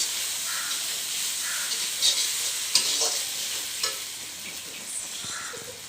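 A soft, steady sizzle of spices frying in a pan for village chicken curry, with occasional light scrapes and taps of a spoon stirring, and a faint bird call outdoors.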